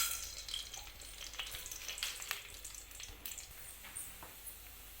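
Tempering spices fry in hot oil in a pan for curd rice, giving a soft, continuous sizzle with occasional crackles and pops and no talking.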